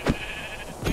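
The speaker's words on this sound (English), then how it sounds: "I found a bunch of sheep" Sheep in Minecraft bleat in two short, close calls, one at the start and another near the end, with a quiet gap between and no talking over them.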